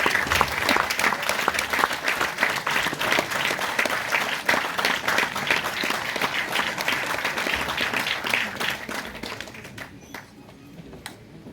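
Steady applause from a conference audience at an international physical education event fills the room for about ten seconds, dense and even, before thinning to a few scattered claps.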